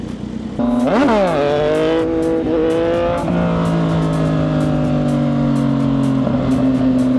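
A Yamaha MT-09 motorcycle accelerating hard, its engine close and loud, climbing sharply in pitch, then shifting and dropping into a steadier high drone as it keeps pulling.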